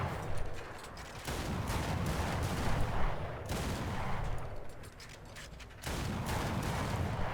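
Type 65 anti-aircraft guns firing in War Thunder: sustained rapid bursts of automatic cannon fire with mechanical clatter, loud and close, stopping briefly in a couple of places before resuming.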